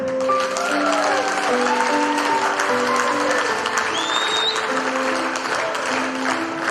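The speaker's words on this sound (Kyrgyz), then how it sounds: "канчалаган мейман кол чабар экен." Guests at a restaurant celebration clap together in sustained, lively applause that fills the room, while music plays underneath and a voice speaks over it.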